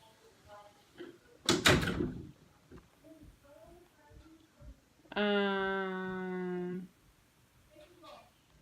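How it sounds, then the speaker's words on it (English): A door is shut with one loud, close thud early on, then a steady buzzing tone sounds for a couple of seconds; quiet voices talk faintly in the background. "Shut the door for me."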